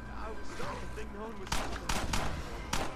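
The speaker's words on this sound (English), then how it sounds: "I probably shouldn't shoot the gun, but I'm here." Gunfire in the State of Decay video game, several sharp broadband shots in the second half cracking out over a busy game soundscape and a continuous voice talking.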